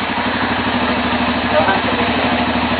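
A motorcycle engine idles steadily while warming up, a continuous low rumble with a fine pulsing rhythm, close and fairly loud throughout with no pauses.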